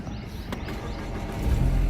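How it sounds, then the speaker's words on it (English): Ford Focus car engine starting after key programming, a low rumble that swells and grows louder toward the end as the motor catches, heard up close with no talk. "Let's see if car is going to start."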